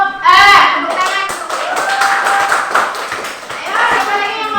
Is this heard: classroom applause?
yes